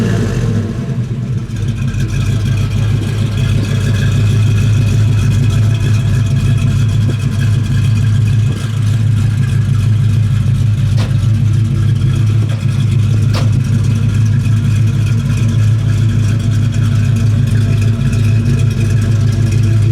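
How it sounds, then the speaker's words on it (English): 1970 Camaro Z28 with a matching-numbers LT1 V8 rumbling through dual exhaust, a loud, deep, steady idle with slight lopey throb and mild revs throughout, close to the car. "It's got a great sounding dual exhaust. Dalton, you want to give it just a little bit of gas, please?"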